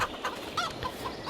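Chickens cluck in the Farming Simulator video game, a run of short, bright clucks and squawks spaced through a low farmyard ambience, moderately close and heard alone without talk.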